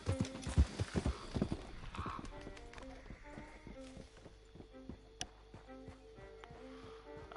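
Horse hooves clip-clopping in the Red Dead Online video game, a rapid cluster of hoofbeats at first settling into a steadier walking rhythm, with a horse whinny and faint background game sounds.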